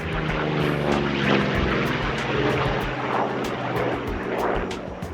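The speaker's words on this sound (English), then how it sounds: "The Corsair was designed initially as a carrier-based airplane." A gull-winged Corsair, a carrier-based fighter with a big piston engine, drones past at an airshow. Its propeller makes a loud, continuous throbbing roar that rises and falls slightly.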